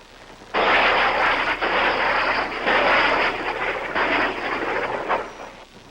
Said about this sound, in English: Above them, South Vietnamese helicopter gunships circle and fling down their salvo of rockets.